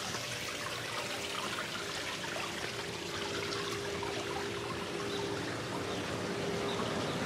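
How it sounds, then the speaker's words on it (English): Steady broadband rush of a backyard waterfall flowing at a large house, a continuous splashing wash that holds evenly throughout with no talk over it. "That's probably waterfall over"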